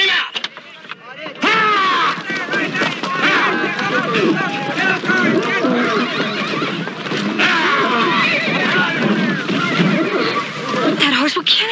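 A bucking horse neighs and whinnies loudly and repeatedly, close by, over the thud of hooves and a lively background, with people talking at times.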